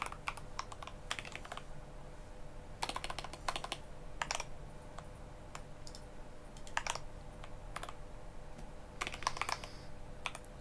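Someone types on a computer keyboard, with quick irregular clusters of crisp key clicks separated by short pauses. The keystrokes are close but quiet over a faint steady hum.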